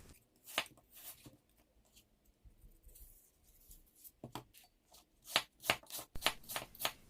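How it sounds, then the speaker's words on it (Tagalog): A knife thinly slicing freshly picked apples, quiet scattered cuts at first, then a quicker run of crisp slicing strokes near the end, close and alone without talk. "After removing the center part of the apple, then we can start slicing it thinly like this"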